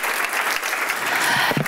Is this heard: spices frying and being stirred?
no